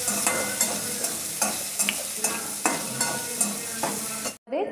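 Paneer slices roasting in a kadai, a steady broadband sizzle under repeated sharp scraping strokes of a spatula, close and fairly loud, with a brief pause near the end.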